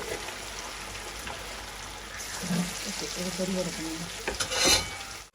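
Four kilograms of pond fish frying in oil, a steady bubbling sizzle with stirring clatter and a louder splash near the end, with a voice talking over it.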